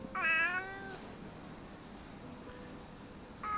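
A house cat lets out one clear, loud meow near the start, then quiet follows with a faint softer sound near the end.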